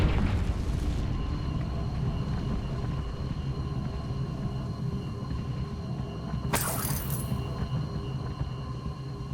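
A Confringo fire spell explodes in the game Hogwarts Legacy, giving a sharp burst partway through that sits over a constant low rumble of ambient game noise.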